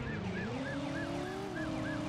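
A wailing police siren in the PS1 driving game Driver cycles steadily up and down at a distance, with a constant engine-like drone running underneath throughout.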